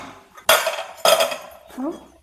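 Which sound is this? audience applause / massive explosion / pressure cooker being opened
pressure cooker being opened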